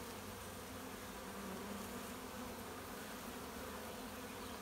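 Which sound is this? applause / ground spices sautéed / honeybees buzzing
honeybees buzzing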